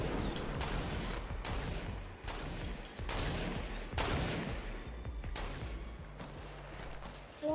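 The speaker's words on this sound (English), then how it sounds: "Why are you shooting the floor?" Gunfire in the Fortnite video game, shots aimed at the floor, heard as a loud, close series of rapid repeated bursts with short pauses between volleys, no talking over it.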